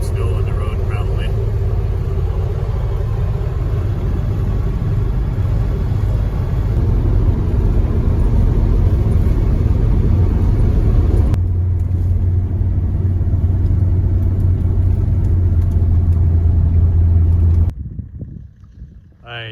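Steady low diesel engine drone and road rumble from a Mercedes W123 diesel car driving on a winter highway through Stone Mountain Provincial Park, continuous and loud, with tonal shifts partway before fading at the end.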